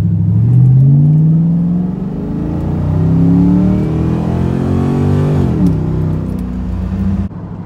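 A 2001 Ford Mustang GT V8 fitted with a cold air intake pulls away from a stoplight, its engine rising in a loud, close rev that climbs, shifts, then climbs again before easing off.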